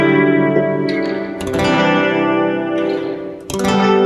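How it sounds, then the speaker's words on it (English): A guitar plays through a Champion Leccy Skitter, a lo-fi brick-style reverb pedal, giving sustained chords a washy, gritty tail; two short strummed attacks punctuate the ringing wash. "brick style reverb, so it's going to have a lot of lo-fi artifacts to it"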